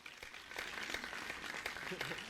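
A short burst of applause, steady clapping from a small crowd, with voices mixed in.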